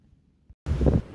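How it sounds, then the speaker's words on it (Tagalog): Strong wind gusting on the first floor of a building, a sudden loud rush of air hitting the microphone after a near-silent moment, then easing slightly. "Guys, ang hangin dito sa first floor. Parang mahangin."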